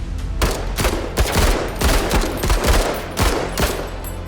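Squad weapons fire in a video game as enemy eggs are shot, a loud fast burst of repeated gunshots in an uneven rhythm, close and continuous with no voices.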